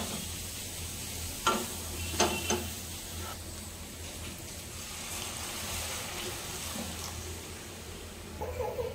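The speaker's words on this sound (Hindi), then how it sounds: "एबे हमर पानी फुटी गलानी" Water comes to a boil in a pot for vegetable atta Maggi noodles. It gives a soft, steady bubbling hiss with a few sharp clinks and knocks scattered through.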